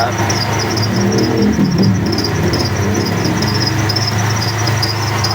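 A car engine rumbles steadily up close with a rough, noisy exhaust drone and a faint high whine, constant throughout.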